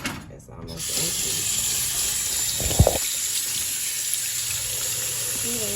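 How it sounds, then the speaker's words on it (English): Tap water runs from a kitchen sink faucet while hands are washed under it, a steady broadband rush throughout with a brief clunk midway. "Yes, you gotta wash your hands over here."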